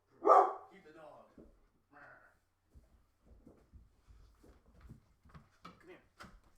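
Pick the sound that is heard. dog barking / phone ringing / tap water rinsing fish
dog barking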